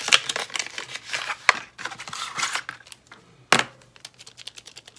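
Plastic packaging of a large blue-and-purple glitter marker with a bullet tip is opened close up, giving a quick series of crinkles, snaps and clicks with a couple of sharper cracks.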